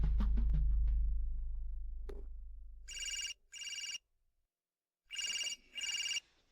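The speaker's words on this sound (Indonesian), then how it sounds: "Begitu telepon saya berdering ini," A telephone bell rings in two pairs of short, bright bursts after a low thud and brief clatter, with silence between the rings and no voices.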